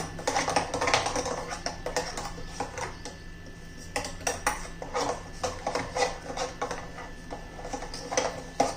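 Moong dal batter is mixed with baking soda in a bowl, giving quick bursts of spoon clicks and scrapes against the container, irregular and fairly close, with short pauses between bursts.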